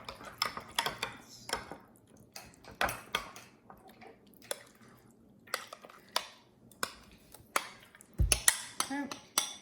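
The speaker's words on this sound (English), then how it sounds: "Mix them together." Dip ingredients are mixed in a bowl, with a spoon tapping and scraping in irregular clinks and knocks, close and fairly quiet, while people speak softly now and then.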